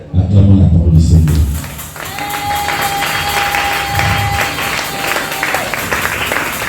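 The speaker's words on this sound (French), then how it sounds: "Acclamons la parole du Seigneur." A church congregation at a French-language service applauds and cheers for several seconds, a loud dense burst of clapping that swells at first and then carries on steadily, with a sustained musical tone coming in under it.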